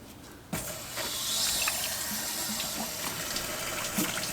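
Water from a hose rushes through the cooling system of a JDM B20-swapped Honda CR-V, starting abruptly as a steady, close splashing gush with small clinks and knocks.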